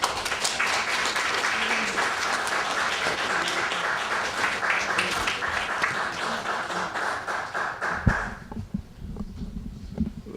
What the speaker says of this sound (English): Let's give this young lady another great round of applause there